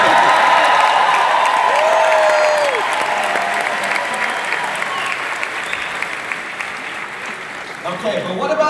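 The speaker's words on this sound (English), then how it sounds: "I don't think you're clapping enough for that." A large audience at a Shaklee conference at Caesars Palace, Las Vegas, claps loudly and steadily, with a few whoops and cheers mixed in. The applause fades slightly as it goes on.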